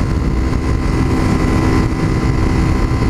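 A motorcycle with only a slip-on exhaust, changed gearing and a thin tyre accelerates uphill, its engine a loud, steady, close roar with no talk over it.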